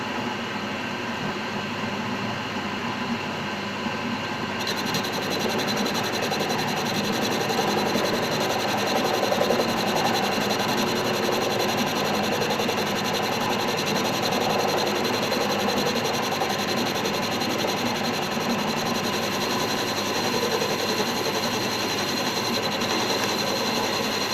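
Metal lathe cutting steel with an SCLCR1212H09 turning tool, a continuous close scraping hiss and whine of the cut over the machine's steady drone, unbroken for the whole stretch.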